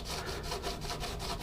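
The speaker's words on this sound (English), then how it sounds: "I'm just sanding until I feel no resistance on the front end," Sandpaper rubs near the fretboard of a Martin GPCPA1 acoustic guitar during a crack repair, with quick, even back-and-forth strokes that are close and fairly quiet.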